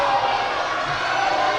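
A wrestling crowd reacting: a dense, continuous roar of many voices filling the arena, loud and steady with no single voice standing out.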